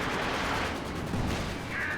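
Gunfire from a WWII-era strategy game as a gun fires on a Panzer IV tank, a dense continuous rumble of shots and battle noise at steady moderate level throughout.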